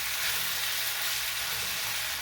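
Shrimp frying in a hot pan, a dense, steady sizzle that holds at an even level for a couple of seconds, close and fairly loud, with no talk over it.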